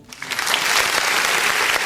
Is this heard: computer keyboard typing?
no